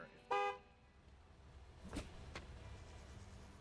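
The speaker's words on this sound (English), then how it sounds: "Honk honk." A car horn in the Gas Station Simulator video game gives one short, bright honk, followed by faint thumps and clatter in a quiet game scene.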